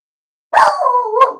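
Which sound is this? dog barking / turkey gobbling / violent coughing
dog barking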